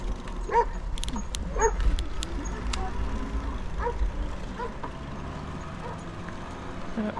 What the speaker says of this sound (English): they had a nice little dog barking at us